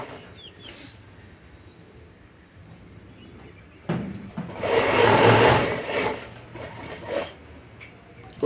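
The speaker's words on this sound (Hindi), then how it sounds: "इस तरह से पूरे में गोल पे सिलाई मार लेंगे" A sewing machine stitches the hook strip of a blouse, main fabric and lining layered together, sewn in a curve; quiet handling at first, then a loud close burst of running stitches for a few seconds, tapering off.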